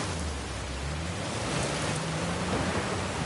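A steady, dense rush of falling water from a waterfall in Uncharted 4, broadband and continuous, with a low hum beneath and no speech.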